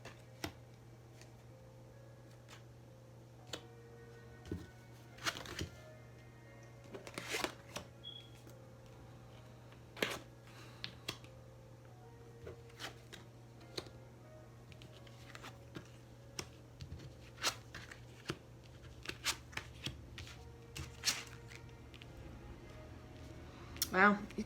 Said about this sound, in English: I'm just going to take a moment to flip the cards